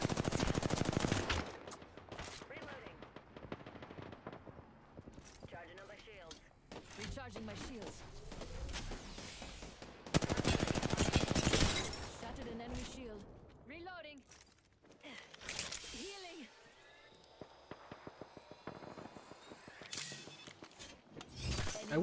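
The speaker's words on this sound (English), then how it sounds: "We do have two different teams shooting at us" Gunfire from two enemy teams in the battle royale video game Apex Legends, rapid automatic bursts and sharp shots in clusters, some loud and close, others more distant, with a voice talking in between.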